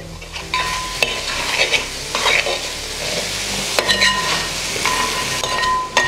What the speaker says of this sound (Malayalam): നമ്മുടെ മീൻ മുട്ട നന്നായി ഒന്ന് ഉടച്ചു കൊടുക്കാം